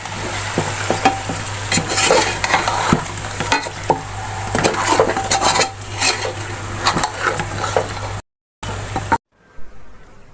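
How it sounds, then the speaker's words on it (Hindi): A spice masala with ground dried coriander and salt is roasted in a pot for beef nihari, loud sizzling with clattering spoon scrapes against metal, ending abruptly in near silence. "अब इस मसाले को थोड़ी देर भून लेंगे।"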